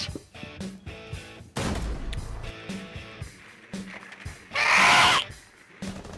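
Gunfire in Rainbow Six Siege: a few sharp reports scattered among game noise, with a loud burst near the end, heard alone without talk.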